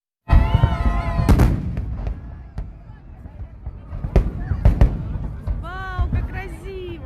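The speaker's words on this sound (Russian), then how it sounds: "Мы ждем салют." Fireworks salute exploding over Poklonnaya Hill in Moscow, a series of loud sharp booms and crackling bursts at irregular intervals, with a crowd and people talking and exclaiming close by.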